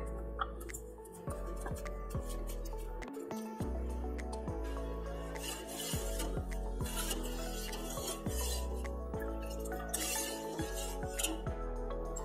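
A spoon stirs coconut milk pudding mixture with syrup and agar in a pot, giving repeated scraping swirls and light metallic clinks in a steady rhythm, close and clear, without talk.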